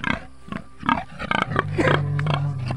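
A pig grunts and snorts in short bursts close by, outdoors on a simple rural farm, with a lower drawn-out grunt near the end.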